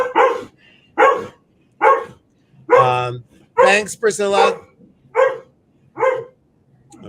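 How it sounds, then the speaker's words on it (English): Dogs bark in a series of sharp, separate barks roughly once a second, close and loud, with a voice briefly speaking between them. "they're barking on the tree"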